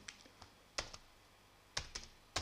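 Keystrokes on a computer keyboard while a test phrase is typed, a few crisp clicks grouped in small irregular bursts with short pauses between them, close up in an otherwise quiet room.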